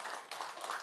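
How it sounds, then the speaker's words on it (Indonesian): A short burst of clapping from a small group at an Indonesian motivational gathering, brisk and close, lasting under a second with a brief dip midway. "tepuk tangan dong"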